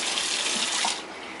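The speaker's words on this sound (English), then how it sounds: "I just take it right out of the sink at that temperature" Hot water running from a kitchen sink tap, a steady close splashing flow that drops in loudness near the end as the stream changes.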